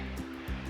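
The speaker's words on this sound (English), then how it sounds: "I'm gonna camp here next to Christopher Creek, which is flowing heavily." Christopher Creek along the Arizona Highline Trail, running high after rain, gives a steady rushing, broadband water roar, close and continuous through a brief moment with no voices.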